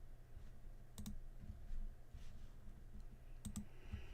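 Sparse clicks on a computer keyboard, a few quick keystrokes in small clusters separated by pauses, soft and close over a low steady room hum.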